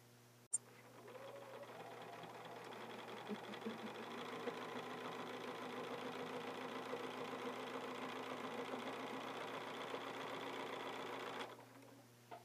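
A sewing machine stitches steadily along a template from one marked point to another, a continuous mid-level motor whir with rapid needle chatter that runs for about eleven seconds and then stops.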